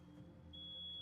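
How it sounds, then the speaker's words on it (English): A smoke alarm triggered by cooking upstairs emits a single sustained high-pitched electronic tone, heard from a distance in a room over a low background hum. "Someone's cooking upstairs, so don't mind the beeping."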